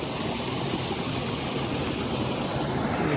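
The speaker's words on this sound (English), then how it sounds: "First river crossing of the trip." Steady rushing water flows without a break, a broad even wash of sound close by, with no voices over it.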